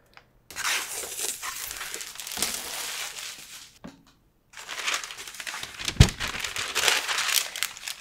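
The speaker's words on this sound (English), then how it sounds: "I need to peel the div sheet" A clear plastic transfer sheet being peeled off a Cricut-cut design for a glass painting, heard as crinkly, crackling tearing in two close bursts separated by a short quiet gap, with a sharper snap near the end.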